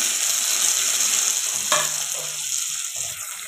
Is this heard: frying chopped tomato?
yes